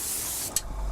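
An airbrush sprays paint onto a 1/48 scale de Havilland Sea Vixen FAW.2 model kit, giving a steady close hiss with a brief sharper burst partway through.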